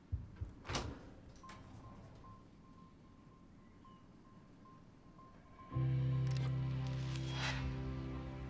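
A door is opened: a few sharp clicks and a thin whine, then at the end a sudden loud, sustained rumbling drone takes over and continues steadily.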